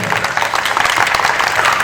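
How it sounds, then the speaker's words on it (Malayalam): An audience at a devotional rosary gathering with songs breaks into a short burst of dense, lively clapping, loud and close for under two seconds. "അപ്പോൾ നല്ലൊരു കൈയടി എല്ലാവരും."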